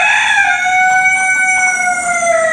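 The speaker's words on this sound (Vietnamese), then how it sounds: "Đây là cái con gà trống." A long-tailed rooster, kept in an air-conditioned room, crows one long sustained call, loud and close, with clear steady harmonics and no talk over it.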